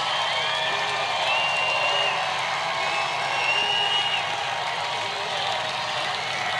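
A large rally crowd in Florida for Donald Trump cheers and roars in a dense, steady wash of noise that stays unbroken throughout, heard from a distance with no clear individual voices.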